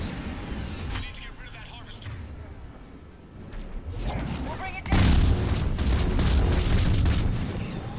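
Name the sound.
explosion detonating in the video game Mass Effect 3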